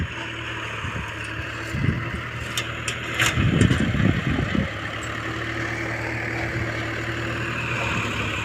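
A new tractor-driven farm cutting machine runs with a steady mid-pitched engine hum. Louder clattering and rattling bursts come through around the middle before the engine settles back to an even drone.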